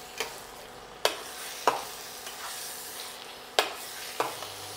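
Grated carrot halwa frying in ghee is stirred in a pan, giving soft scraping strokes at irregular intervals over a low steady sizzle, close and fairly quiet, with no voices.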